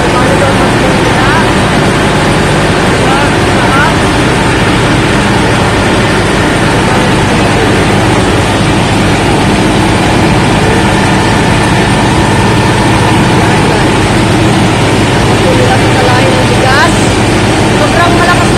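A rice milling machine runs loud and steady with a heavy, continuous engine drone, while people talk faintly over it.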